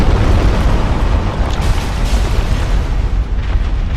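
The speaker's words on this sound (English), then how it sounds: "Dodge the explosions specifically." Explosions in a Dark Souls boss fight, a dense, continuous roar of booming blasts filling the whole clip, loud and close with no talking.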